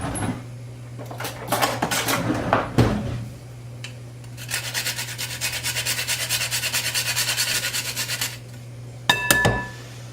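Stuffed pasta shell filling with nutmeg and pepper is stirred in a bowl, giving scraping, rubbing strokes and a few clinks of the utensil, with a steady rhythmic stretch of stirring in the middle.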